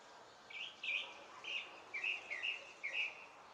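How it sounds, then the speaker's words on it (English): Small birds chirp outdoors in a steady series of short, high tweets over faint background hiss, somewhat distant and soft. "I think the birds are also joining us in these prayers"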